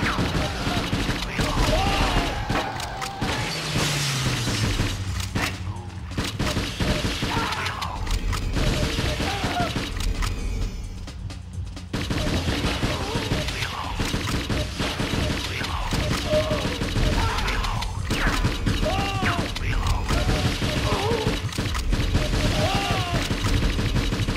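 Gunfire in the video game Euro Demo, dense bursts of rapid shots and fusillades nearly throughout, loud and close, with a brief lull midway and a voice talking over parts of it.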